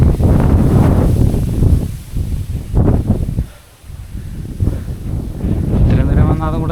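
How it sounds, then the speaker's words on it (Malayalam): Strong wind at a hilltop viewpoint near Kanyakumari roars as a loud, buffeting rush against the microphone, dipping briefly in the middle, while a person talks over it. "ഓ, ഇവിടെ ഭയങ്കര കാറ്റ്."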